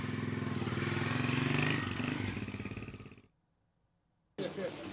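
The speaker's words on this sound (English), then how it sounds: "Big time motorcycle coming through." A motorcycle roars past up close, its engine rising loud then fading away over about three seconds before a short silence and a burst of other noise.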